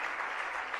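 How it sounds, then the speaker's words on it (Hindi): An audience at a religious gathering bursts into brief, dense clapping, an even burst of applause with no voices over it. "तालियां जोरदार। और तालियां"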